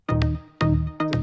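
A break section in an electronic track, teasing the melody with three punchy, loud synth stabs in a short repeating rhythm, each decaying quickly before the next hit, no voices.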